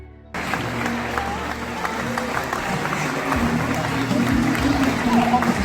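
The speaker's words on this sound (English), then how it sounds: "the applause was wonderful" Wedding guests applaud at a reception held in a market stall, clapping steadily and building in loudness after a quiet start, with voices mixed into the crowd.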